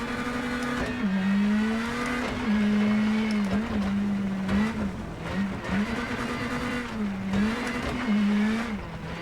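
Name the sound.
rally car driving on wet dirt in video game WRC 10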